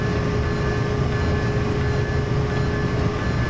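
A passenger train in Train Simulator 2015 runs steadily through Sandown on the Isle of Wight line toward Shanklin. It gives a continuous loud rumble with a faint tonal whine and no talking.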